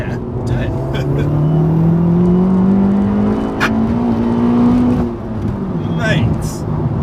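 An Abarth 500 GTO with about 250 bhp revs hard toward 7,300 rpm, its engine note rising steadily in pitch from inside the car, loud and close, with voices talking over it.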